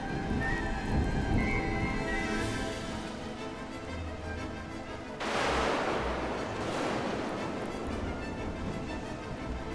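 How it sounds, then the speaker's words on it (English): Rain falls steadily in the survival video game Smalland, a continuous hiss, and then a deep rumble of thunder rolls in partway through and lingers under the downpour. "if it's raining sideways, that makes sense"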